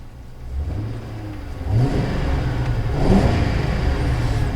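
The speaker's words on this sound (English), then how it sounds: "Car fires up." A Ford car engine fires up after a fuel filter change, a low rumble that rises as it catches and then settles into a steady run, slightly uneven.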